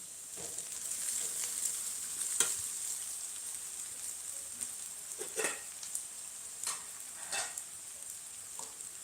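Cooked rice being stirred into fried onions for chitranna, with a soft continuous sizzle broken by occasional scrapes and taps of a spoon in the pan, fairly quiet and close.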